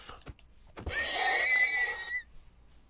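A horse in Minecraft Bedrock Edition on PS4 lets out one clear, shrill whinny lasting about a second, preceded by a few soft clicks and then fading to quiet.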